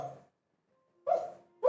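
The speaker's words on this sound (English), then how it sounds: "that's my dog having a dream." A sleeping dog lets out soft muffled whimpers and stifled barks while dreaming, three brief cries with a faint thin whine between them, close by in a quiet room.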